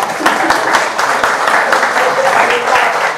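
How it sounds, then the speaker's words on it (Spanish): A summer school session audience applauding, a loud, close, continuous rattle of many hands clapping, with sharp individual claps standing out and a voice faintly underneath. "Un aplauso a todos."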